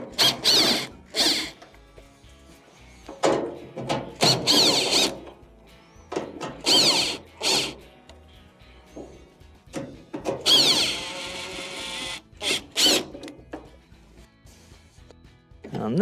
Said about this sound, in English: To remove your console, you have two 1/4" screws that have to be taken off.